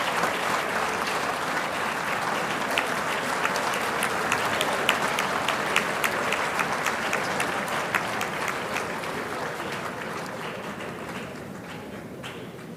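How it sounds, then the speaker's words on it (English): A crowd at a university congregation and memorial lecture gives a sustained round of applause, a thick, steady clapping that tapers slightly toward the end. "A loud round of applause to Emeritus."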